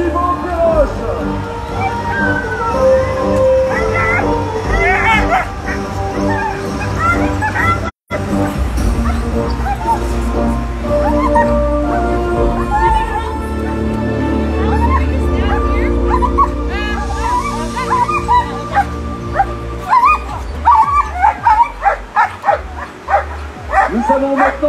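Sled dogs bark and yip loudly at the start of a mountain stage of a sled dog race, with busy overlapping barks, whimpers and crowd babble throughout and talk mixed in.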